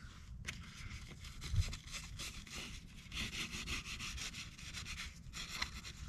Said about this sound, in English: I'm going to do some wet sanding